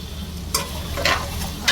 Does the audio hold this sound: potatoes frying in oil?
yes